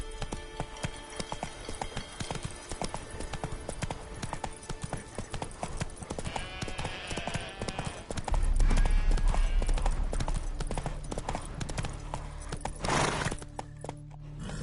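Horse hooves clip-clop steadily in a PS4 video game while riding, a rapid continuous patter that grows louder and busier partway through as the horse speeds up, with a brief whinny-like sound near the end.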